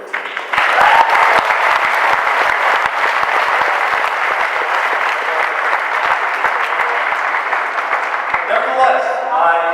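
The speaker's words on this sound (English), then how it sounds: "a round of applause for our friends who graduated 13" A large audience applauds steadily at a graduation ceremony during a valedictory speech, with dense, loud clapping that starts abruptly and carries on without a break for nearly ten seconds.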